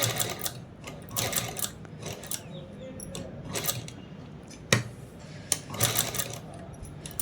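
Sewing machine stitching small cut-work on a blouse neck design, running in short bursts of rapid needle clatter separated by brief pauses and light clicks.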